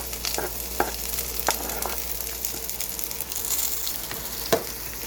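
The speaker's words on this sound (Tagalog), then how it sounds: "Ilagay na ang pangunahing sangkap gaya ng bawang at sibuyas. Pagsasabayin ko na sila, may gigisa." Garlic and onion sautéing in oil in a pan for a beef ribs dish, a steady low sizzle broken by a few sharp stirring scrapes and clicks, close and moderately loud with no voices.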